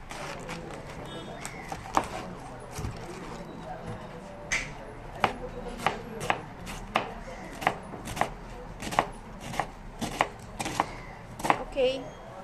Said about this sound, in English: can you show me how you slice a piece of cabbage?